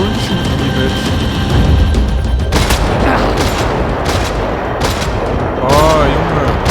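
Loud, close gunfire erupts in a third-person shooter video game, rapid bursts of shots and booms overlapping with music and a voice talking.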